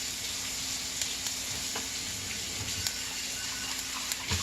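Shirataki noodles cook in a pan with a continuous close sizzle and frying hiss, broken by occasional sharp clicks and stirring knocks, with no voices.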